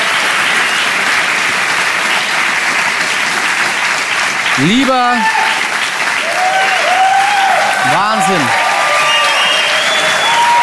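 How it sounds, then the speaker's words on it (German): Steady, loud studio audience applause fills an Austrian TV talk show set, continuing throughout while someone speaks briefly twice over it. "Sehr viel Applaus."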